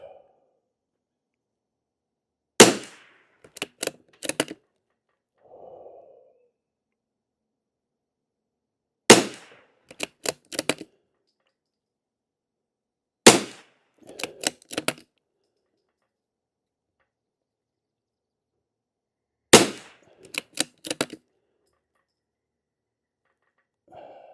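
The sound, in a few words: rifle firing CCI SV ammunition for a test group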